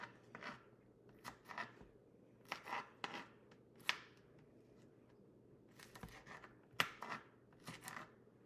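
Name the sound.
cutting jalapenos into little pieces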